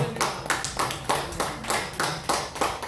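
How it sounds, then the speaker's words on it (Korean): Audience clapping in a hall during a political commentary lecture, heard as about ten loud, rhythmic group claps in unison, each one a sharp burst, close and alone with no talk. "이 대목에서 박수 한번 쳐드려야 돼요"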